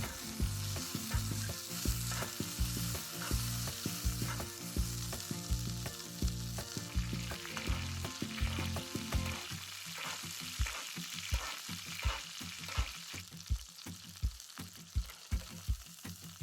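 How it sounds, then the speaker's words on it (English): A venison steak sizzles steadily in a pan while it is basted with infused butter, with rapid rhythmic spoon taps and scrapes against the metal and a dense, continuous frying hiss, close up with no talking. "start to baste your steak with the infused butter"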